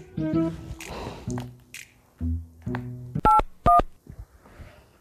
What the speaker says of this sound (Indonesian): Tak telepon mama sik ah.